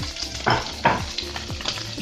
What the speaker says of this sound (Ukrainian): Там сало вже скварчить.